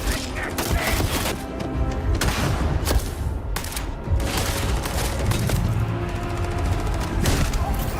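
Rapid gunfire bursts and heavy booms from Starfield: Shattered Space, dense and loud throughout, with a voice talking over the shooting.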